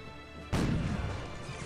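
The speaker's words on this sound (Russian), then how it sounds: "Тут выстрел." A single cannon shot in the strategy game Cossacks 2, one sudden heavy crash that then rumbles and fades, fairly quiet overall.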